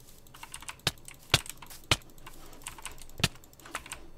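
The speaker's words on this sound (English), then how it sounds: "if the keyboard is annoying, I'm really sorry" Keystrokes on a computer keyboard while a survival game is played on mobile Minecraft: a few sharp, loud clicks stand out over a softer, steady patter of lighter taps, all close to the mic with no one speaking.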